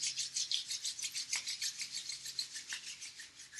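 Palms of the hands rub briskly together at the close of a yoga practice, a rhythmic close swishing of skin on skin repeating in quick even strokes with no talking.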